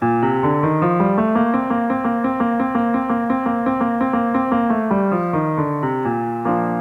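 A voice sings a rising and falling scale on a rolled, buzzing trill over nine counts, each note sustained and stepping smoothly up and back down, with no other sounds.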